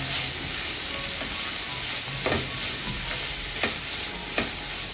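Ground leftover chapati with chaat masala and garam masala is stirred in a hot pan, a constant sizzle broken by several distinct scraping strokes of the spoon, close and fairly loud.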